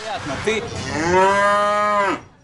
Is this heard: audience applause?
no